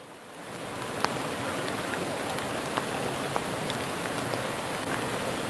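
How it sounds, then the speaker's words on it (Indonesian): Steady rain hisses and patters on a surface, with a few sharper drops tapping now and then, moderately loud and continuous with no voices. "Wah, hujan."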